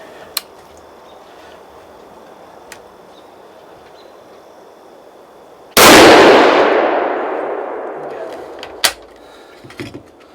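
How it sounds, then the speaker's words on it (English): A single loud rifle shot is fired at a buck deer on a Georgia farm during a hunt. It cracks sharply out of quiet outdoor ambience and rolls away in a long echoing decay, followed by a few faint knocks. "I'm gonna shoot him."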